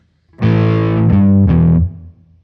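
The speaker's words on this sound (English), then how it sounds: "Natural overdrive" Electric guitar through a BOSS MS-3 natural overdrive, a thick, warm distorted chord struck and sustained, then two quick restrikes before it cuts off, loud and close with no talking.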